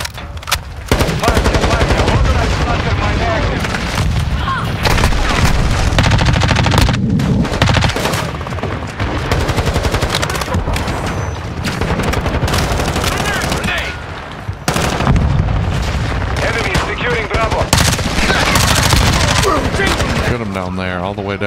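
Rapid gunfire from Call of Duty on the Shipment map, loud dense bursts of automatic weapons and single shots close up, with brief pauses, and a player talking now and then among the shots.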